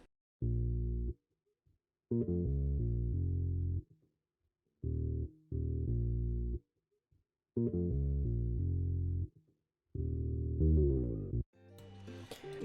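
Bass line on a classic Ampeg preset, bouncy melody of short sustained low notes in a repeating rhythmic pattern, played alone and clear.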